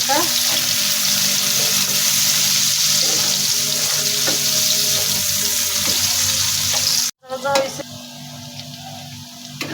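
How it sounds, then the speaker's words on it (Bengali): Chopped onions fry in a pan for a village-style pangas fish curry, giving a constant close sizzle with faint stirring, briefly cut off near the end before the sizzle resumes. "কুচি পেঁয়াজ এখন একটু ভেজে নিচ্ছি হালকা"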